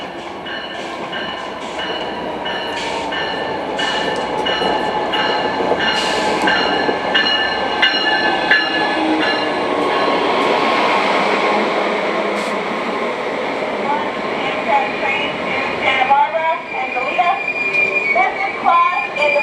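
Train 761 pulls into Simi Valley station with loud, sustained metallic wheel squeal over a steady rumble of railcars rolling close by, building toward the middle and then breaking into sharper screeches near the end.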